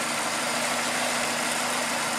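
Engine of a Toyota Tarago/Previa idling steadily after its throttle body and idle control valve were cleaned. The even, continuous hum stays close and constant throughout, with no voices.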